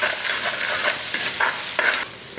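Crushed garlic and ginger sizzle loudly in hot oil in a pan, with repeated scraping stirs over a constant frying hiss, heard up close and alone.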